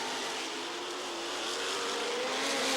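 Five-liter Can-Am race cars at the 1984 Trois-Rivières Grand Prix scream down a fast street straight, a sustained high engine whine that swells louder as they draw closer, with no talk.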